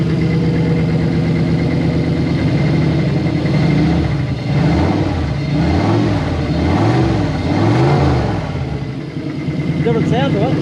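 Toyota 1UZ V8 in a Hilux, just swapped from a supercharger to a T88 turbo, running loud and close with a rough idle that rises into repeated swelling revs and falls back.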